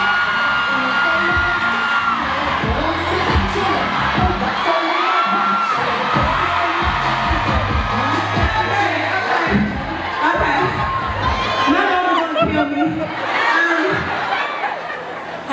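A crowd at a stage event at Beautycon cheers, whoops and shouts continuously, with loud overlapping voices and chatter throughout.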